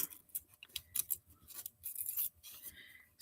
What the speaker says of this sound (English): I'm going to actually rip the vellum.